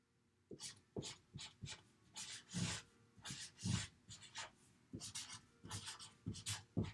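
Pen writing on paper, close and quiet, a run of short scratchy strokes in an uneven rhythm with brief pauses between words, no talking.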